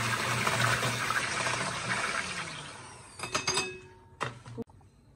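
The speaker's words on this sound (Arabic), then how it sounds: "غنديروا 4 الكيسان ديال الماء" Water is poured from a glass into a bowl for a Moroccan sfenj dough of flour and yeast, a steady close splashing gush that tapers off and ends with a few knocks of the glass.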